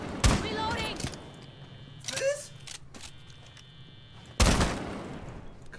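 Gunfire in the Rainbow Six video game, a few sharp loud shots and short bursts separated by quieter stretches, with voices talking in between.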